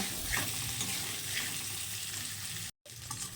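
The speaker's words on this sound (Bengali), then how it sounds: "নাড়তে থাকবো আলু ভাজা হয়ে গেছে" Potatoes fry in hot oil while being stirred for a vegetarian aloo dum, a close, steady sizzle with faint scraping, briefly cutting out near the end before resuming.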